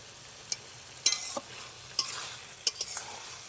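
A spatula scrapes and clicks against a pan while ash gourd curry cooks with a soft sizzle, several distinct stirring strokes spaced irregularly, close up and fairly quiet, with no talking.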